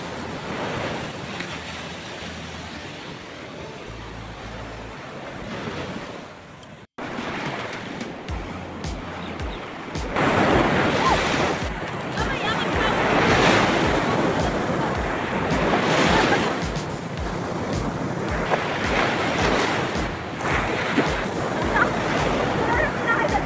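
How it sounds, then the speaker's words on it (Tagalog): Strong high-tide ocean waves roll onto a Zambales beach at Limliman Beach Resort, a loud, continuous roar of surf with gusting wind buffeting the microphone and swelling surges, a sudden cut partway through. "Malakas na naman ang mga alon. High tide."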